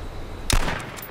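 A single sharp gunshot in the video game H1Z1 cracks out, then fades into a short echoing tail over a quiet background.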